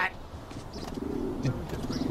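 A pigeon coos softly in low, rolling murmurs mixed with light chirps, moderately close, with a voice briefly audible amid the background.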